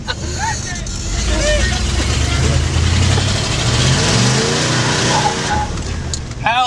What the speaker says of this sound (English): Everybody's waiting for us to do a burnout over here.